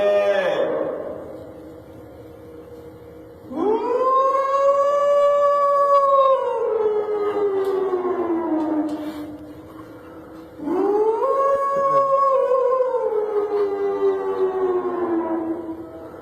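A man imitating a mosque siren with his own voice, giving two long rising-and-falling wails that each swell, hold and slowly sink, loud and close with a short gap between them.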